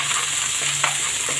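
Small dried shrimp go into a hot frying pan, a brief close crackling sizzle with a soft stir or scrape midway, no talk.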